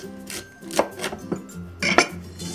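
A knife chops through the base of a washed cauliflower head on a board, a handful of sharp, uneven crunching cuts close by with brief pauses between them.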